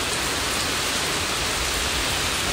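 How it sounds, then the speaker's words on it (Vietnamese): Heavy rain falls during a storm in a dense, loud, unbroken roar of broadband hiss, with no breaks and no voices. "Đang mưa rất là lớn"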